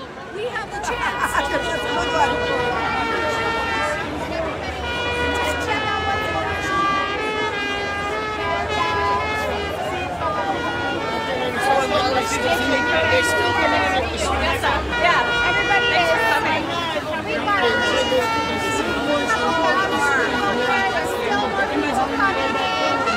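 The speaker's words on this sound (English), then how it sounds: "Look at the crowd." A dense crowd at the Vancouver freedom march fills the air with steady chatter and babble, dotted with distant car horn toots and music-like tones throughout.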